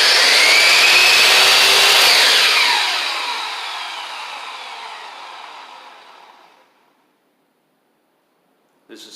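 A WEN dual-speed sliding compound miter saw spins at its second speed setting with a loud, steady high whine, then winds down over several seconds to silence after release, alone with no talk.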